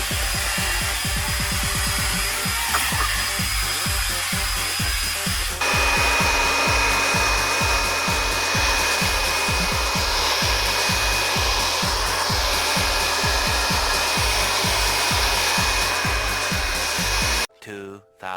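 A strong air blower dusts out a PC, a loud continuous rushing roar with a rapid pulsing flutter underneath that holds steady for several seconds and then cuts off abruptly near the end.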